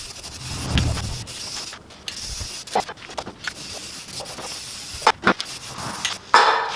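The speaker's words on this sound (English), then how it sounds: "I'll paint it first, then I'll show you around." A car subframe for a K24-swapped AE86 restoration gets spray painted in a few short hissing bursts with pauses between them, close and moderately loud, along with light handling clatter.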